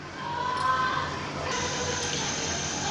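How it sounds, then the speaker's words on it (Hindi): Water is poured into a jug while cooking chicken and vegetable macaroni, a steady close gushing stream whose tone shifts partway through as the jug fills, with no talking. "सबसे पहले मैंने एक जग के करीब पानी ले लिया है इसमें"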